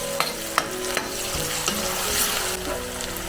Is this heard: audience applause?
no